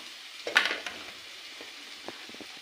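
Masala for chole sizzles in a pan, a soft steady fry with one brief louder crackle and a few faint clicks, close and without voices.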